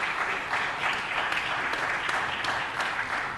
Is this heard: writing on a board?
no